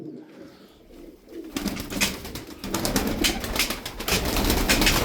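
Play pigeons coo close by in a soft, murmuring chorus, with faint rustling and wing sounds, growing fuller after a quiet start.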